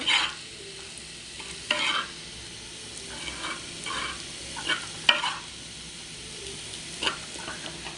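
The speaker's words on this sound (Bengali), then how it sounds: "ভালো করে একটু নেড়ে চেড়ে নেব।" A spoon stirs spices frying in a pan of oil for a fish curry, with a constant soft sizzle and several louder scraping strokes at irregular intervals and no voices.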